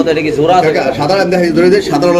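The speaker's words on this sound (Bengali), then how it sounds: "এটা হলো কালো একটা কিং কবুতর" A black King pigeon coos nearby in soft, wavering calls, partly mixed with a person talking close by.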